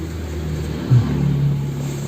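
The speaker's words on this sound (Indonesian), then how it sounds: "Tuh ada motor lewat." A motorbike passes by, a brief swell rising over a steady low engine drone that fills the whole moment, with no voices.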